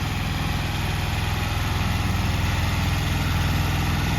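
A tractor engine idles and runs steadily at a horse-tethering ring, a continuous low rumble with a regular throbbing pulse, close and alone with no talk.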